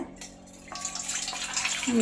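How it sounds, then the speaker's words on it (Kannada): A little water is poured into a bowl for bonda batter of gram flour, a soft steady trickle that grows louder over two seconds, with a voice talking alongside. "ಫಸ್ಟ್ ಒಂದು ಸ್ವಲ್ಪ ನೀರು ಹಾಕ್ಕೋಬೇಕಾಗುತ್ತೆ"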